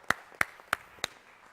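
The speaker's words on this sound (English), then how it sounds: "Quick round of applause." Four sharp, evenly spaced claps ring out at a swim coaching symposium, a brief and fairly quiet round of applause for a swimmer, with no talking.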